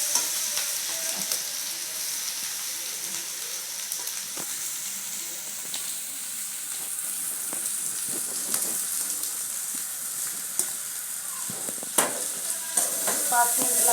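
Crumbled leftover chapati pieces stir-fry in a pan with a soft, steady sizzle and hiss, broken by scattered scraping clicks from stirring.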